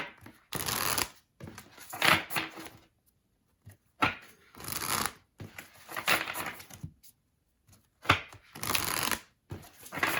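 A deck of oracle cards being shuffled in several quick riffling bursts separated by short pauses, close and fairly loud, with no talking.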